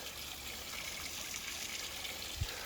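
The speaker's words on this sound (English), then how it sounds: "The water just went through that tree. It's going under the roots right there." Water trickles under tree roots in a forest, a soft continuous flowing wash with a single faint low bump near the end.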